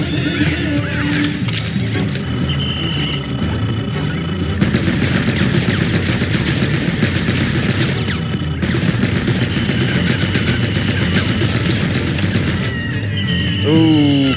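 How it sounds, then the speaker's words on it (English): Rapid gunfire bursts in the video game Pikmin 4 rattle loudly and continuously over game music and sound effects, with clustered shots filling most of the stretch. "I still can't believe there's guns in Pikmin."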